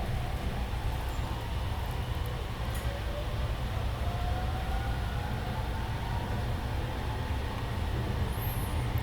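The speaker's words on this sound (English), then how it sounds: "As you can hear, the acceleration speed of this train is more quiet compared to normal limited express train or commuter trains for passengers to sleep well." Sunrise Izumo sleeper train accelerating gently, a steady low rumble with a faint rising motor whine and a brief high squeal near the end, heard from on board.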